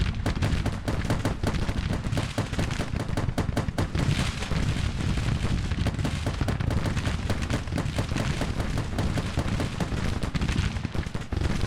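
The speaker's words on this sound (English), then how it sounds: "Please silence that gun." Constant battlefield gunfire in the Civil War strategy game Grand Tactician, with a dense, unbroken roll of musketry and heavier booms of artillery that could be a cannon.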